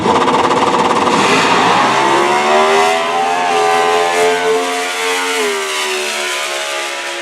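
Ford and Chevy drag racing cars launch at the U.S. Nationals with a loud, raw engine roar whose harmonics climb through the gears, then fade slightly as the cars pull away down the strip.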